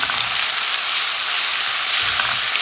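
Ground spice paste hits hot oil in a pan while cooking hilsa fish, giving a loud, steady, close hiss of frying that holds without a break for the whole moment.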